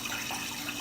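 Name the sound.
water running from a faucet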